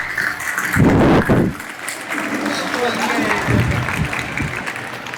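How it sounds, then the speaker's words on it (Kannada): Applause for a guest arriving late at a school event swells in a short loud burst near the start, then gives way to a voice speaking over a lingering murmur of the audience. "ಅವ್ರಿಗೆ ಜೋರಾದ ಚಪ್ಪಾಳೆ ಹೊಡಿಬೇಕು ಅಂತ ಕೇಳ್ತಾ ಇದ್ದೀನಿ"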